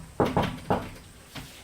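A wallpapered cupboard door with a wooden surround and a glass centre panel gives four dull, close knocks as it is handled, three in quick succession, then one more after a short pause.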